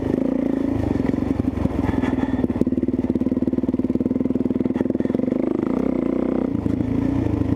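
A Kawasaki KLX470 dirt bike engine chugs steadily at low revs in third gear, a loud, continuous throbbing with rattling clatter on a dirt ride.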